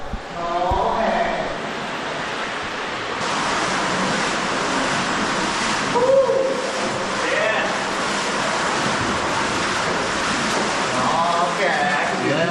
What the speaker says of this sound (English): Dude, I hear more water.